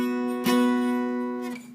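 A guitar chord in B rings out with steady sustained harmonics, restruck once partway through and then left to fade, played alone with no talking.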